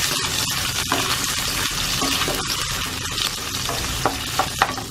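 Onion frying in hot oil, a loud steady sizzle with crackling pops and occasional stirring clinks close up, no voices.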